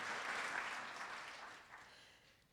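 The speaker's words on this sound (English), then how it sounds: "yeah, we can applaud that" A congregation at a Sunday morning service breaks into applause, a broad wash of clapping that is loud at first and then gradually thins and fades away.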